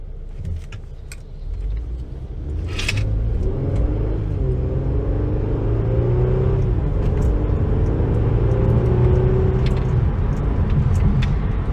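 A Mercedes-Benz engine pulls under part throttle, a steady low rumble rising as the car accelerates and building in loudness, with faint clicks and rattles inside the cabin and no talking.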